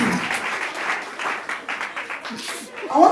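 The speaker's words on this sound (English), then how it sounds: "Please clap for them." Audience clapping at a university education fair, a steady wash of applause lasting the whole stretch with some voices and chatter mixed in, swelling again at the end.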